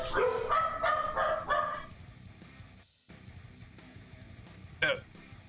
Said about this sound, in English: My dog's kind of losing their minds